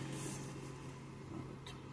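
A 2013 Dodge Avenger engine idles with a steady low hum, quiet and constant, with no talking.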